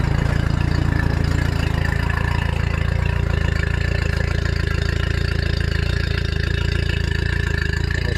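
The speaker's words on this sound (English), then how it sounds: "It gives the engine a bit of a run, and of course it charges the battery" A fishing boat engine idles steadily with a constant low drone and mechanical hum, unchanging and close, with no voices.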